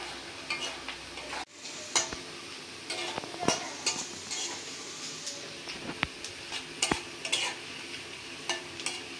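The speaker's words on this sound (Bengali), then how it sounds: "পেঁয়াজ রসুনটা বাদামি করে ভাজা হয়ে গেছে" Onion and garlic fry in a pan while being stirred, a faint continuous sizzle broken by frequent light scraping and tapping of the spoon against the pan.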